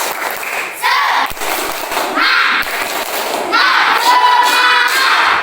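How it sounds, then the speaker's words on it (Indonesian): A classroom of young children perform a rhythmic spirit clap, loud bursts of group chanting and shouting with a few claps and thumps, repeating in short phrases. "Ya, tepuk semangat."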